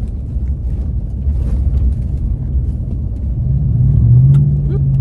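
An old, worn pickup truck engine drones loud and close from inside the cab while driving, a steady low rumble that swells slightly toward the end.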